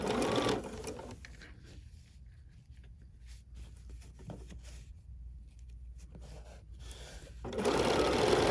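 A sewing machine stitches fabric with entredeux lace trim on an embroidery sampler block, its steady motor hum running quietly between louder bursts at the start and end, with no talking.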